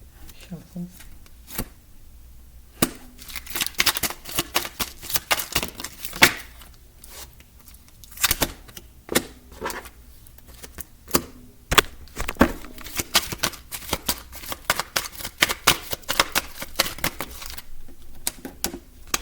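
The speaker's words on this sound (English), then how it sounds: "Shuffle." Tarot cards are riffled and shuffled in a quiet room, giving close, sharp bursts of flicking and slapping that come in irregular clusters across the whole stretch, with brief pauses between handfuls.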